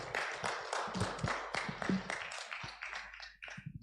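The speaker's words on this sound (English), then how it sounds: "Just another hand of applause for Raylene." Applause from a forum audience on e-mobility and charging infrastructure in Kenya: a scattered group clapping at close range, with individual claps clearly separated. The claps keep a lively, uneven rhythm and thin out slightly near the end.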